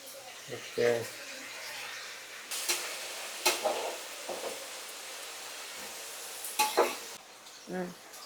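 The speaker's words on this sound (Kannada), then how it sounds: "ಈಗ ಮಸಾಲೆ, ರುಬ್ಬಿರೋ ಮಸಾಲೆನ ಹಾಕೊಳ್ಳೋಣ" Ground masala hits a pan of cooked tomato for vegetable pulao, giving soft intermittent sizzles and scraping stirs, with a few sharper clatters and quiet stretches between; people talk at times.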